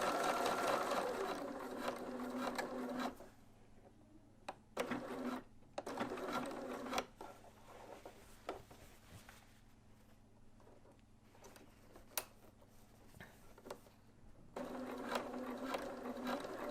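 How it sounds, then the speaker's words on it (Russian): A sewing machine and overlock stitch a V-neck T-shirt neckline in quiet, rapid whirring runs, starting and stopping in several short bursts with a longer run at the end. "Полученное отгибаю вниз и прокладываю строчку уже по низу ленты."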